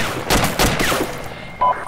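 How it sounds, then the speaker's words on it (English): Bursts of gunfire in a military shooter game set in a forest, loud sharp volleys clustered in the first second, then fading into background noise with a brief tonal blip near the end. "There's a machine gun in the forest."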